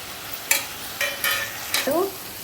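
Meal maker biryani mixture stirred in a pan, giving a few short scraping, sizzling bursts, close and moderately loud, with no talk.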